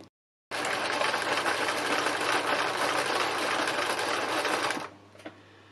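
A sewing machine runs a zigzag stitch over cord, starting abruptly after a moment of silence and then whirring steadily and evenly for about four seconds before stopping, leaving a faint hum and a small click.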